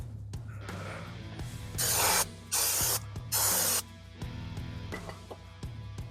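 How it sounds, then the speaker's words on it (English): Brake cleaner sprayed onto Jeep Patriot front brake parts in three loud hissing bursts, each about half a second long, over a low background hum with faint rattling. "Spray it down, wipe it down."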